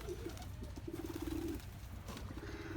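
Pigeons coo in repeated low, throaty phrases at a farm park in Cisarua, Puncak, with the bird calls close and steady over a faint outdoor background.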